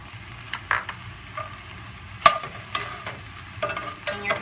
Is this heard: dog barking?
no